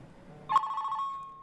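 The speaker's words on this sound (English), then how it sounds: "Oop, that's my phone." A single electronic telephone ring chimes in the Kentucky Route Zero game, starting with a sharp attack and holding a steady tone over quiet background.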